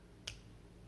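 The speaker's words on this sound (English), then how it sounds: "finger snaps, so it sounds cooler, better vibe" A single crisp finger snap sounds once, short and bright, in a music track, standing alone against quiet.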